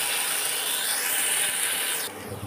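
Ground pumpkin leaf paste is stirred in hot oil in a pan, a steady sizzling scrape that runs continuously, then cuts off abruptly near the end, leaving a softer low rustle.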